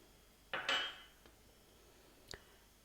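A small metal cezve filled with vinegar and cloves is set down onto a stove burner with a short, close metallic clatter. About two seconds later comes a faint, sharp click.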